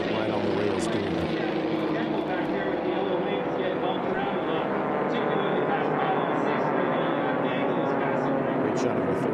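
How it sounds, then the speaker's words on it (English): A Formula One class racing airplane roars past at low altitude during an air race, its propeller engine drone steady and loud throughout, with an announcer talking over it. "Great shot of a third place airplane on the right side there."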